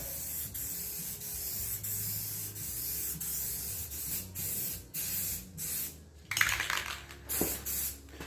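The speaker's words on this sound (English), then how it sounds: "I'm sure I'm breaking all kinds of rules on spray painting things" A spray can sprays paint onto a part of a neglected old project truck in repeated hissing bursts. Between passes come rattles and small clanks, and a louder clatter sounds near the end, all close by and without talk.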